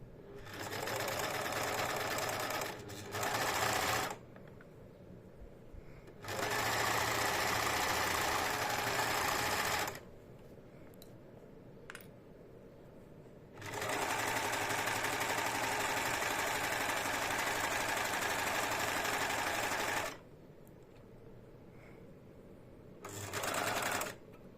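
A sewing machine stitches a rounded corner on cushion cover fabric in three long, steady runs with short pauses between, the motor whirring loud and close.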